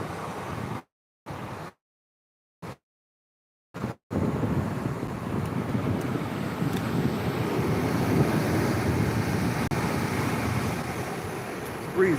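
Steady wind rushes across the microphone beside open water, a broad continuous roar that fills the clip after several brief dropouts near the start.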